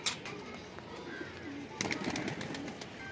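Rampuri pigeons cooing at a pigeon keeper's loft, soft low throaty calls over faint background noise, with a brief cluster of sharper sounds near the end; no clear talk.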